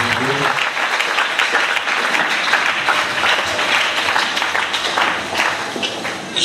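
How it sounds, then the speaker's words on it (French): A church congregation applauds during a French-language worship service, a dense, steady wash of many hands clapping throughout, loud and continuous with voices mixed into the crowd noise. "Acclamons Jésus."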